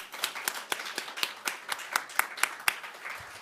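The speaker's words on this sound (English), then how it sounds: "let's give them a big round of applause." Small audience clapping for students at a summit welcome, a thin run of distinct, evenly spaced claps heard fairly close and moderately quiet, with no talking over them.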